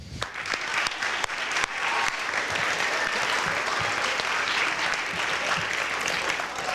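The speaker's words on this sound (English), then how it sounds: "So give them a round of applause." Sustained, dense audience applause at a school spring concert, honouring the band musicians, with a few sharper claps at the start before settling into an even wash of clapping.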